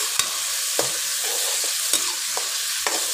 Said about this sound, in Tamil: இதையும் சேர்த்து நல்லா வதக்கிட்டு